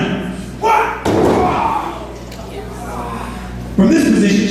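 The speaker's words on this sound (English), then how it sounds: "slamming him to the ground." A person is thrown onto a mat during a black belt martial arts demonstration, producing loud, heavy thuds and slams with sudden sharp onsets, set against crowd noise and a voice speaking.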